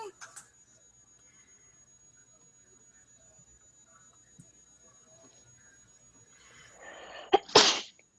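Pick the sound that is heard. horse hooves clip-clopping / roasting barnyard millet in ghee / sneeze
sneeze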